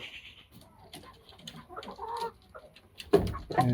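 Fayoumi hens on a small poultry farm with about sixty birds, soft scattered clucks and murmurs, then a louder close burst of clucking near the end, with no talking.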